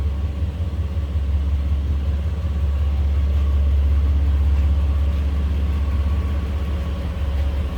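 A 1984 Mercedes-Benz 380SL convertible with a 3.8 liter V8 and automatic transmission runs steadily at idle nearby, a smooth, even low rumble holding constant throughout with no talking.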